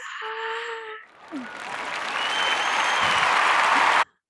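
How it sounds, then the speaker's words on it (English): A crowd breaks into loud, sustained applause and cheering that swells steadily and then cuts off abruptly, following a brief tonal sound at the start. "And the crowd goes wild."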